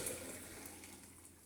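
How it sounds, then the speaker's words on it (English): Watermelon agua fresca pours into a pitcher with a steady, close liquid rush that holds at an even level for the whole moment. "Pour it into a pitcher."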